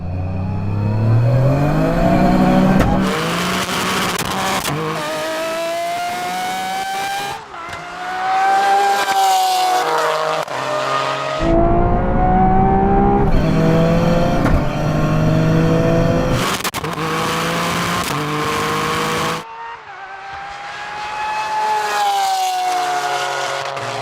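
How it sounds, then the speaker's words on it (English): A 600hp GR Yaris and a Lamborghini Aventador SV drag race from a 30 mph rolling start in second gear over a half mile, engines revving loud and close, rising through several gear changes with sharp shift cuts. "now we can have a rolling race from 30 miles an hour, second gear, and it's over the half mile"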